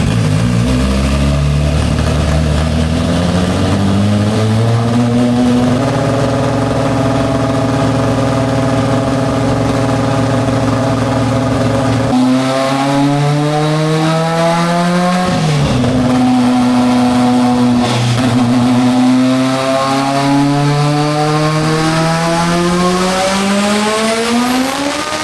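A turbocharged all-wheel-drive Honda Civic on a dyno revs hard and loud. Rising and falling engine tones sweep up through long pulls, with a brief dip midway before climbing again. No voices.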